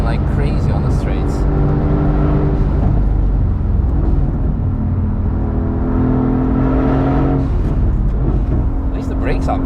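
A defective Mercedes-AMG GT S driven on the Nürburgring gives a loud, continuous engine drone with shifting revs and wind rush, heard from inside the car while someone talks over it.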